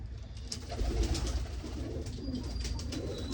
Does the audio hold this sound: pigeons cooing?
yes